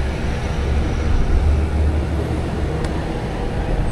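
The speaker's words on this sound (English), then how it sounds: "Should have waited to film this till after that loud truck is away from me." Loud, steady traffic rumble from a truck passing close by a bicycle on an Eastern Queens city street in New York City, with heavy low-end roar throughout and no talk.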